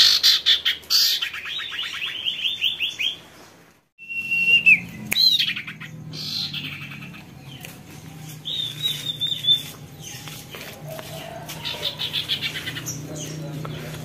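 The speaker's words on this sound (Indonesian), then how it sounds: "Burung di Sangkalayang juga bisa bunyi ya teman-teman." A small caged sirpu bird sings close by in rapid bursts of high, sharp chirps and trills, broken by a brief pause, with a low background hum.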